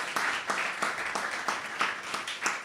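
Scattered applause from a small audience at a book anniversary celebration, with distinct bursts of clapping recurring every half second or so, fairly light and moderately close.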